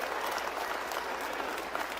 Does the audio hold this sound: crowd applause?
yes